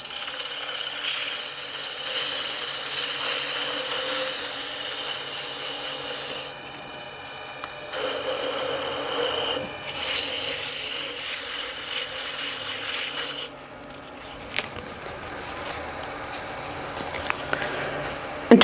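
A small wooden box spinning on a lathe is sanded through progressively finer grits, giving bursts of bright hissing abrasive rubbing that start and stop in several separate passes, with quieter motor hum in the gaps.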